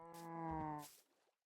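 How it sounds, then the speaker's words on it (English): A Minecraft cow gives a single drawn-out moo, clear and fairly close, fading into quiet. "I like the cows looking longingly out at the ocean."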